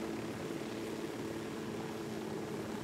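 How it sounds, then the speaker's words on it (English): Enemy helicopter flying overhead in the video game Ghost Recon Wildlands, a steady droning rotor and engine hum at moderate volume, continuous and unbroken with no voices over it. "there's a Unidad chopper"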